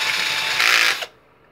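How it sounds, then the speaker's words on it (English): Power drill with a 9/16 bit boring into the plastic side of a Captain America Brigade toy blaster, a loud harsh grinding whir that intensifies midway and then cuts off abruptly, leaving near silence. "Then I took my drill bit, 9/16, and fit it in there"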